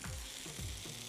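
Pomfret fillets coated in semolina fry in hot oil in a pan, a steady close sizzle and crackle throughout.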